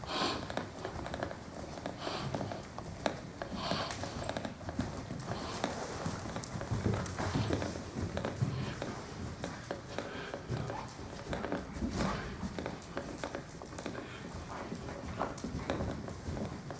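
A horse walks with steady, repeated clip-clop hoofbeats while being watched for straightness and bend, the footfalls moderately close over a continuous background rumble.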